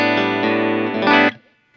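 An electric guitar played with a clean, dry tone rings out a sustained chord close by, holding steady before cutting off abruptly, with no voices.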